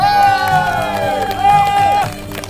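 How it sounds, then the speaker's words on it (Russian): Crowd at a horse breeders' and herders' festival in a village, cheering and clapping loudly alongside horn-like tones and a steady babble of voices. "громкие аплодисменты"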